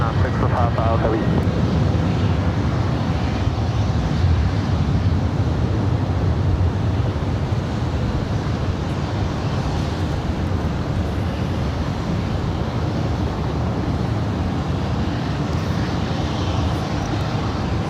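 An airliner lands on runway 24 right at LAX, heard as a steady, broad jet roar with wind noise throughout, fairly loud and sustained, while radio chatter plays over it.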